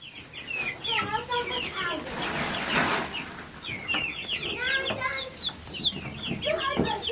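Silkie chickens and an olive egg rooster cluck close by on a farm, repeated short clucks and squawks in bursts, with a faint voice in the background.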